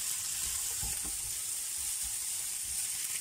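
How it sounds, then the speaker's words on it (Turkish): Spices and salt roast in a hot pan, giving a steady, even sizzle with faint scraping stirs underneath, close and continuous with no voices. "tuzumuzu da ilave edip kavurmaya devam ediyoruz"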